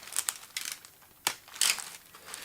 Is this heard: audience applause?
no